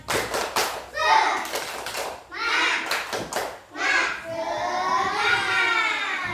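Children chant together in a 'tepuk semangat' clapping routine, their voices rising in rhythmic bursts punctuated by sharp group claps, near and lively.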